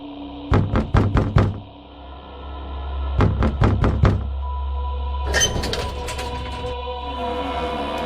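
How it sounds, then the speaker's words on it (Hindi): Knocking on a wooden door in two clear bursts of four or five sharp raps each, followed by a rumbling, scraping sound with no voices. "मैंने दरवाजा खटखटाया।"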